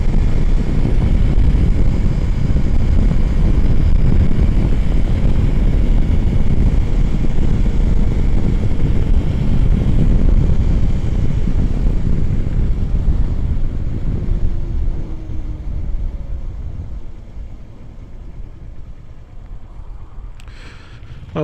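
A motorcycle cruises at 50 with loud, constant wind roar and engine drone close to the microphone, easing somewhat quieter toward the end.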